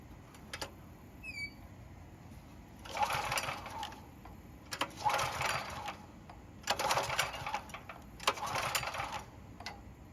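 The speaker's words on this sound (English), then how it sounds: "Now the only thing left to do is try starting it after priming the carb with some fresh fuel." A discarded generator's engine, freshly primed with fuel at the carburetor, is cranked in four rough, churning bursts that never catch, with quiet pauses between pulls.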